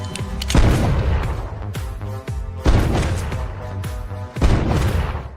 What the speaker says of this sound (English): The sound of gunfire immediately alarmed the sheriff